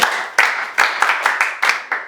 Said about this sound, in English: Clap for the other boy too.